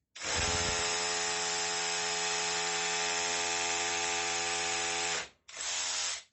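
A rotary hammer drill fitted with a DeWalt bit bores into an ordinary masonry wall, a loud steady whining drone for about five seconds, a brief cut-off, then a short second burst.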